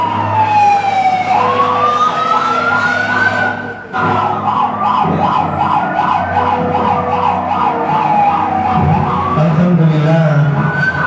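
Ambulance sirens in Indonesia blare loud and close, sweeping up and down in fast repeated wails. A second overlapping yelp joins, with engine rumble underneath and no talking.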